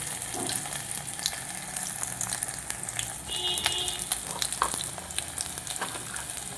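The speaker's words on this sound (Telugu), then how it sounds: "ఆవాలు, కరివేపాకు అంతా వేసి కొంచెం వేయించుకోవాలి" Garlic, mustard seeds and curry leaves frying in hot oil for pepper rasam, a continuous close sizzle and crackle with light stirring, no voices.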